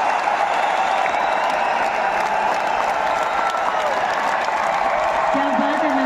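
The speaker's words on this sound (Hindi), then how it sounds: "जोरदार तालियां" An audience at an anniversary business event applauds steadily, a dense, even clatter of many hands that continues at full volume throughout.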